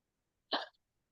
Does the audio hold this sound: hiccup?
yes